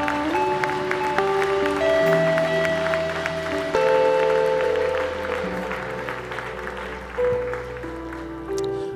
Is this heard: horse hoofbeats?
no